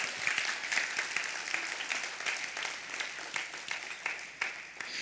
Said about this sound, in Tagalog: Pumalakpak nga sa inyo, ang excited sa anniversary ng Zion.